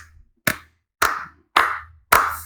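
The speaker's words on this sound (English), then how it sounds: "Round of applause for that show because it's so friggin' good." Four sharp hand claps ring out at roughly even half-second intervals, close and crisp, with silence between them and no voices.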